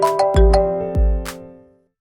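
A phone rings with a chiming two-tone ringtone. Two bright, sustained strikes about half a second apart ring out clearly and then fade away into silence.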